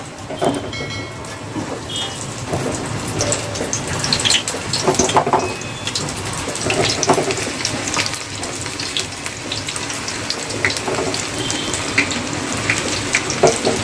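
Corn pakodas (makka bhaji) deep-fry in hot oil until golden brown and crisp, giving a steady, loud, close sizzle and crackle that carries on without pause.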